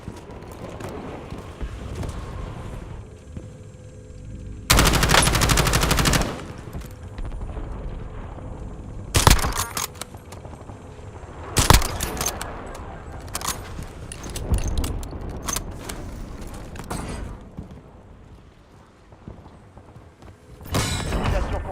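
Call of Duty match with bursts of gunfire: several loud, dense volleys break out between quieter stretches of movement and clatter, and a few sharp single hits are scattered through.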